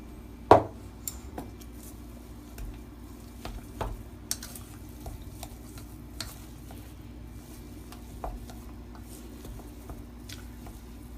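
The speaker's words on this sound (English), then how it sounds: "mix it really well" A spoon mixes vegetarian dumpling stuffing in a bowl, with soft squishy stirring and scattered clicks against the side, one sharp knock near the start, and no talk.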